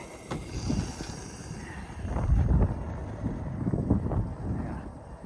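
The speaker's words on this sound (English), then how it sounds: "Got some pretty good wind going today too." Steady outdoor wind rumbles and gusts against the microphone in low buffeting swells, with no talking.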